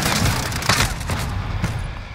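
Gunfire in the shooter Call of Duty: Modern Warfare crackles in a rapid fusillade of close, loud shots with several heavier booms across two seconds, no voices over it.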